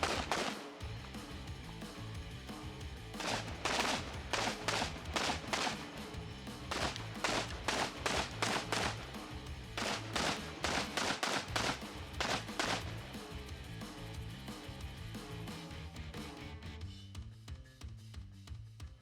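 Rapid bursts of gunfire from a ban-era Daewoo DR200 rifle at a carbine shooting match, sharp shots firing in quick strings and clusters, loud and close, continuing steadily with no talk.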